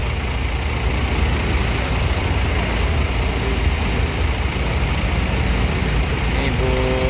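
Putra Remaja intercity buses pulling in at a crowded terminal: a continuous, loud wash of heavy diesel engine rumble and traffic noise with no distinct breaks, steady throughout.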